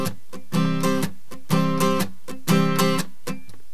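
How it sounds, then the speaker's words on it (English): Acoustic guitar played alone in a swung strum pattern, bright ringing chord strokes alternating with short percussive muted chucks in a steady repeating rhythm, close and clear. "we're going to add the actual strum pattern, which is going to be ringing some of the chords and muting some of the chord"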